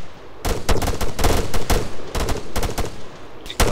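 Bursts of rapid automatic gunfire in a video game battle against pirates, loud close volleys separated by short pauses, with a final burst near the end.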